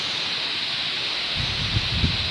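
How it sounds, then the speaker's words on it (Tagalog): Steady broadband rush of strong wind mixed with falling water near a tall waterfall, constant and close, with low gusty buffeting toward the end. "Ang lakas ng hangin dito dahil sa tubig."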